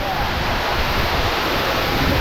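Roaring waterfall inside a forest cave, a dense, unbroken wash of rushing, crashing water that is loud and close and fills the whole space, with no talk heard over it.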